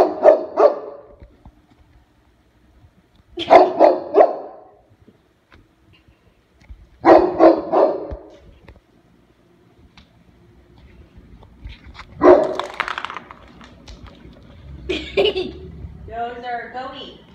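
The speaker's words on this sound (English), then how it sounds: "Why is he barking?" A dog barks in several short bursts spaced a few seconds apart, with a person's voice and light laughter toward the end.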